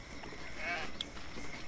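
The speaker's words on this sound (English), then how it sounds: "Oh, look, sheep." A sheep in the video game Baldur's Gate 3 gives a short, faint bleat in the middle of quiet game ambience.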